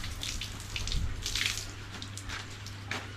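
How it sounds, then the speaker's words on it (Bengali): Water poured over a waterproof bike cover, a soft quiet patter and splash with faint dribbling spread through the moment, under a steady low hum. "জল কিন্তু পুরো দিয়ে দিলাম এই জল দিলাম"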